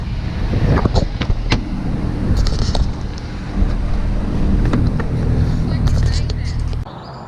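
Nissan 350Z burnout with the car kicking out to the left: a loud, steady engine roar with low rumble and tire noise that runs for most of the stretch, then drops off sharply near the end, with wind buffeting throughout.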